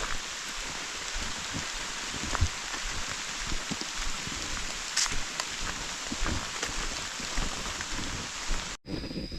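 Steady rain falls with a bright hiss and scattered drop pops, heard outdoors on a family mushroom-foraging trip, continuous for several seconds before a brief dropout near the end.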